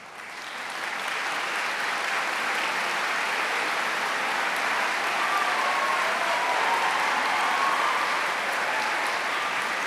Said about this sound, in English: please stand so we can recognize your support with thunderous applause